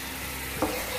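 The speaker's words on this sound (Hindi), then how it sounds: "इसे हमें फ्राई करना है दही के साथ प्याज को" Onions fry with yogurt in a pan, giving a brief steady sizzle with one soft scrape or stir midway.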